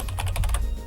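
Rapid clicking of computer keyboard keys being typed on during a game livestream for the MMO Nostale, a steady run of close keystrokes over a low background hum, with no talk.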